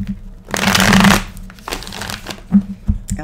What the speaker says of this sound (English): now I'm going to shuffle again and get these beautiful cards back into the